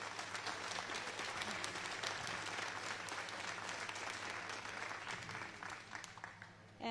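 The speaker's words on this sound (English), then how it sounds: "please give them another round of applause" An audience at an alpaca show applauds steadily, a dense wash of clapping that holds for several seconds before tapering slightly.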